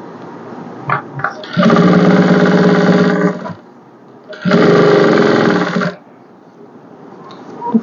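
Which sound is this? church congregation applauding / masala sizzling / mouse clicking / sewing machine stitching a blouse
sewing machine stitching a blouse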